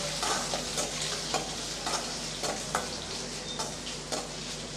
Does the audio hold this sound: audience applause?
no